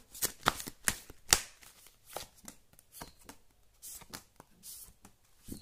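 A tarot deck is shuffled close up, giving rapid riffling and slapping bursts that repeat in quick runs with faint talk in the background.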